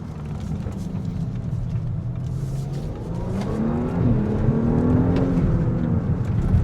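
A 2025 Audi S5 Sport Quattro engine in S mode, heard from inside the cabin, revs up through successive downshifts on a curving road; the drone climbs in pitch and grows louder toward the end, with no talk.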